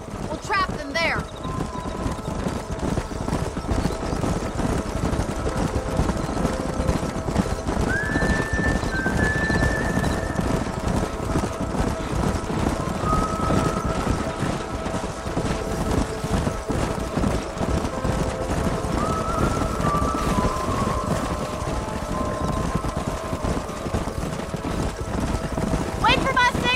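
Horses gallop in the Red Dead Redemption video game, a continuous drumming of hooves close by with occasional neighs and whinnies rising above it, while people talk over the herd.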